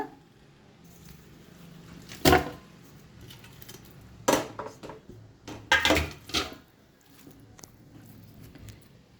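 Raw chicken pieces dropped into a large cooking pot for Kodi dum biryani: a few sharp wet clatters and squishy thumps spaced several seconds apart, close and clear against a quiet kitchen background.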